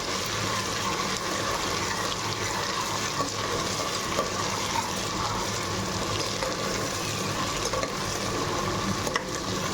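Four green chillies fry in a pan for a vegetable masala pulao alongside brinjal and potato, giving a continuous, even sizzling hiss that holds steady throughout, close by with no talking.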